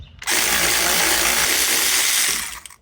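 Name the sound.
battery ratchet removing a nut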